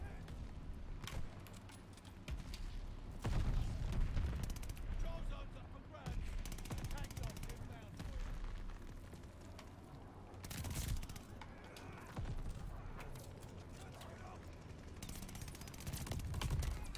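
Gunfire in Call of Duty Vanguard, bursts of shots and fusillades coming in clusters over a busy battle backdrop, with mechanical clatter between volleys and some talk underneath.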